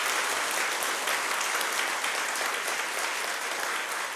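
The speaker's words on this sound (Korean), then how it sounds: "그런 마음으로 박수 한번 드리겠습니다." A church congregation applauds steadily and loudly for the choir and accompanists after a Christmas thanksgiving service performance, a dense, even wash of many hands clapping throughout with no break.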